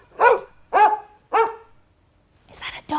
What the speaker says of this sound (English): Is that a dog? Can you make the dog sound?